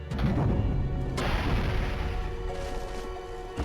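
Bomb explosions drive an elevator in the video game Okami, heard as dense, continuous booming and rumbling with a sharp burst near the start, loud and sustained with no talk over it.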